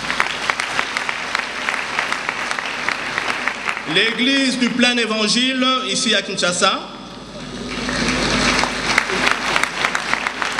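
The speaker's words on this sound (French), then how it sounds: "Applaudissez s'il vous plaît." A church audience in Kinshasa claps steadily throughout while a speaker's amplified voice talks over the applause, which dips briefly, then swells again loud and close.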